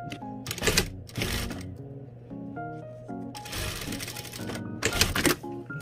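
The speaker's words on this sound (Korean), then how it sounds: "겉면끼리 쭉 펼쳐서, 그러니까 접어놓은 거 모양 그대로 다 펼쳐서 이렇게 완성선 여기 박음질 해주세요" Sewing machine stitching bias tape along a seam line, with bursts of rapid mechanical running separated by short pauses and faint tonal background sound.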